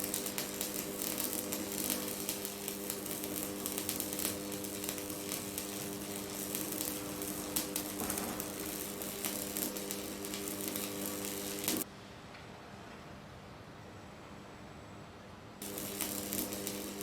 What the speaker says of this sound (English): slowly weld the broken arm by moving the gun back and forth from one side of the crack